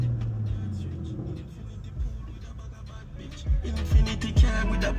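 Exhaust note of a car fitted with a 6870 turbo, the engine rumbling steadily and then letting out several loud sharp pops and cracks near the end as the driver lifts off the gas, with faint talk in the background.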